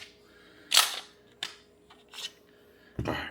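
A new Glock 26X pistol's slide is racked hard, making a few sharp metallic clacks and snaps spaced unevenly over a couple of seconds, close up.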